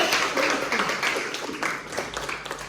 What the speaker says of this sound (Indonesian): Tepuk tangan buat Aziza.